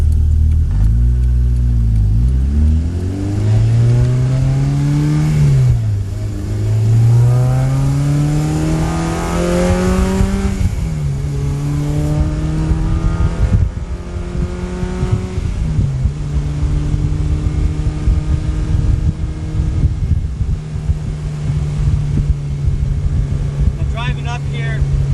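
Honda Integra on new coilovers driving twisty back roads, the engine climbing through the gears with repeated rises and drops as it shifts, loud and close from inside the car, with a voice talking over it.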